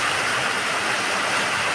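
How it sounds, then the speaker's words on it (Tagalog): Heavy rain drumming on a house roof during a rainy spell: a loud, dense, continuous hiss of drops with no gaps and no voices, close and steady throughout. "Naririnig niyo po ba ang lakas ng patak ng ulan sa bubong?"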